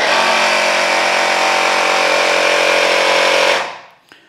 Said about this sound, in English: We'll power on the pump,